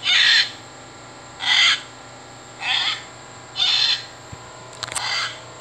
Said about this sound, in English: Scarlet macaw.